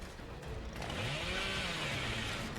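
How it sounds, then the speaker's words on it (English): Leatherface's chainsaw revving in the game Dead by Daylight, a steady loud whine that swells after the first half-second and holds continuously, with music and game effects underneath. "hopefully get him with the chainsaw right now"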